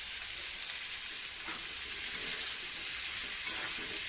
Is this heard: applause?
no